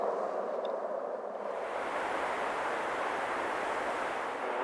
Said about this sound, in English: The helicopter is still flying above me here, so you have to bear with the sound, the noise.